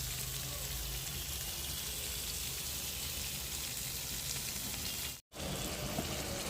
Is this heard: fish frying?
yes